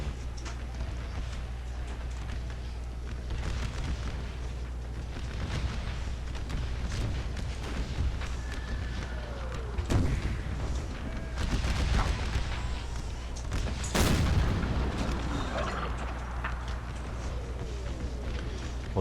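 Musket volleys from infantry units in a Civil War strategy game battle around Little Round Top, a dense crackle of distant shots and small bursts over a constant low battle rumble, with one sharper, louder volley near the end.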